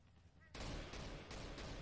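Counter-Strike: GO gunfire opens with a sudden loud burst after a brief quiet start, then keeps up a dense rattle of shots for more than a second.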